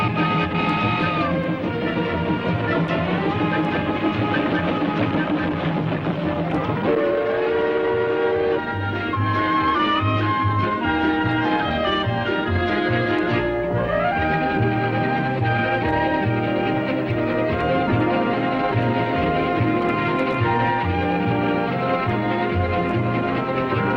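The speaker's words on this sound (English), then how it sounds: "These romantic old-timers steam around the entire perimeter of Disneyland." A steam passenger train runs through Frontierland at Disneyland, with a continuous rumbling and clatter of the locomotive and cars, shrill steam whistle blasts sounding over a background score.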